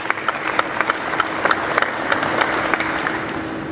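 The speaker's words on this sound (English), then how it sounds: "can we give him a round of applause for that outstanding addition of that?" An audience at a military change of command ceremony gives steady, close applause. Individual sharp claps stand out in a dense, even rhythm, with no talk over it.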